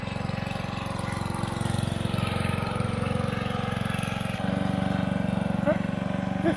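A Towford 38 ride-on mower's small engine runs nearby with a steady droning idle that shifts pitch partway through, and no talk over it.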